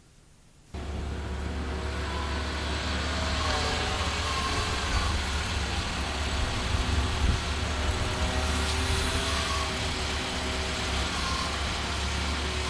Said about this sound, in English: You heard how quiet the engine was as the truck climbed the step at minimal engine speeds.